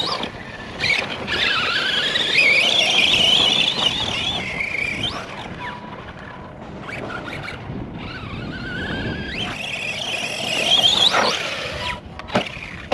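An Arrma Granite 3S V3 RC truck driving and braking, its electric motor whining up and down in pitch through several bursts of throttle, with brief squeals and scuffs between them, moderately close.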